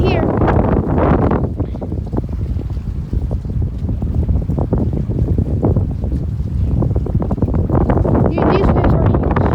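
A windstorm blasts the microphone at the L Street beach dock while big waves churn below, loud continuous roaring gusts with choppy bursts throughout.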